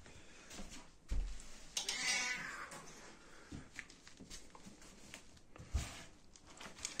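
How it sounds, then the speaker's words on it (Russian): A sterilized Cornish Rex cat meows a few times indoors, the calls close and fairly loud, with scattered soft patters and handling noises and no talking. "В наличии кошка породы Корниш Рекс, стерилизованная."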